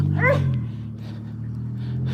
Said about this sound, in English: You guys got to hear Toby bark